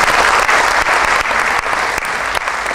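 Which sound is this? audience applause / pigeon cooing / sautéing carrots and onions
audience applause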